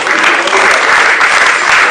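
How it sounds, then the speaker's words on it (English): An audience at a West African project launch event gives a dense, loud round of applause, continuous close clapping throughout. "Please, a round of applause for her."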